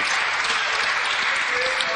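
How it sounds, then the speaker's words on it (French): Steady applause fills the Belgian parliament chamber from the FDF and MR benches, a dense, even wash of many hands clapping together without pause. "Applaudissements sur les bancs FDF et MR."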